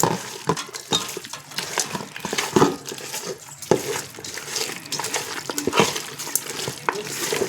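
Chicken biryani masala being stirred in a pot for a chicken dum biryani, a steady scraping and mixing sound with light sizzling and clatter close by, no talking.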